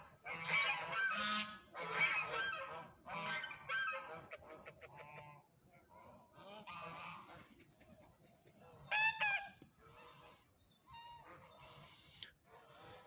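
Geese honk repeatedly in loud, nasal bursts, several birds calling close by with short pauses between calls.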